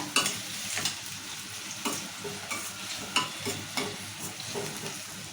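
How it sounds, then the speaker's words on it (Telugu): Tomatoes with onion and chillies cooking in oil in a pan, giving a steady soft sizzle with scattered stirring scrapes and clinks throughout, close by and with no talking. "టమాటా కూడా మంచిగా మగ్గాలి నూనెలా"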